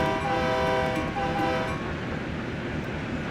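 Diesel shunter locomotive, an MP15DC, powering up hard in Train Sim World, its steady engine drone and rail rumble loud and close throughout, with a tonal whine fading as it speeds up.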